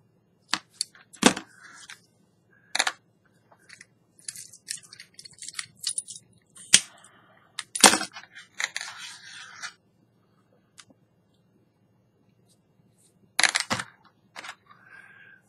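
Cutting material while making a stitched modified trilobite: a string of sharp, close snips and clicks in irregular clusters, with scraping handling noises between them and quiet pauses.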